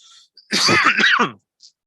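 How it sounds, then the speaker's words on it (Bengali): A single harsh cough or throat-clearing bursts out close to the microphone, lasting under a second, surrounded by near silence. "যে কাশিটা উঠছে"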